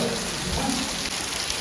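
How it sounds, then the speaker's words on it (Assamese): Rain falls steadily, heard from shelter beneath a bridge, an even soft hiss of drops that stays continuous and moderately quiet, with no voices. "বৰষুণ"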